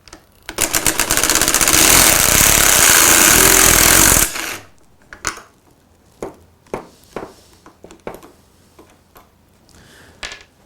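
A Festool Ti-15 hybrid impact driver runs in one loud sustained burst of about four seconds, then falls quiet apart from a scatter of short, sharp knocks and clicks.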